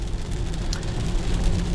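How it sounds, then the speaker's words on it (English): Steady, heavy rain falls during a prolonged downpour, a dense continuous hiss with a low rumble underneath, likely heard from inside a car driving on wet roads. "it's going to continue to rain all day long"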